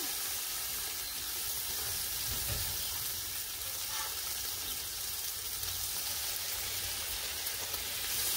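Bacon sizzles on an outdoor Blackstone griddle with a constant crackling hiss, like steady rain, close and even throughout, with occasional faint pops and no voices.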